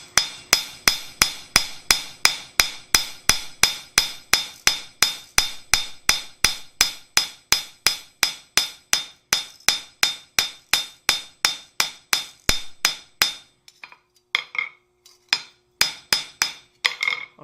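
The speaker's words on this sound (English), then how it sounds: "I'm going to hammer it against my relatively smooth face of my anvil" A blacksmith's hammer with a rusty, pitted face striking the smooth face of an anvil, a long steady run of sharp ringing metallic blows at a brisk even pace, then a few scattered, softer taps at the end.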